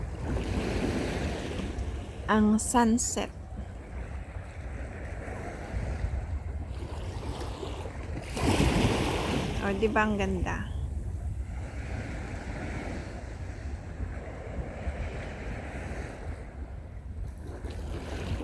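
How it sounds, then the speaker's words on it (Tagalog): Ocean waves roll in at Repulse Bay beach in Hong Kong at sunset, a steady surf wash with wind noise throughout, while a voice speaks briefly. "Alon ng tubig. Yan ang aking background sound."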